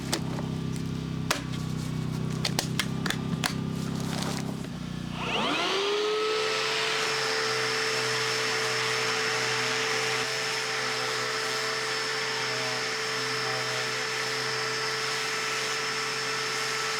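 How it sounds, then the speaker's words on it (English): Clattering noises give way to a vacuum motor spinning up into a steady, loud whine and roar that continues unbroken. "I also use a backpack vacuum"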